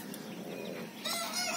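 Native labuyo jungle fowl chickens and chicks give a brief burst of high, thin peeping and soft clucking, close and moderately loud.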